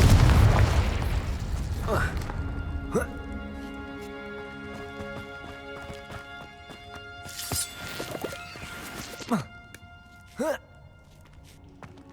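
Confringo spell blasts in the game Hogwarts Legacy, a deep boom at the start followed by a few sharp pops and bursts over sustained musical tones, with a voice speaking briefly.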